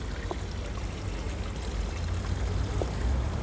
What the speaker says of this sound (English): there's the sound of running water